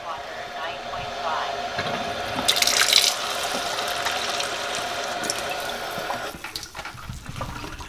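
Kangen water runs from a kitchen tap in a steady close splashing stream, briefly louder at one point before easing, with talk faintly mixed in.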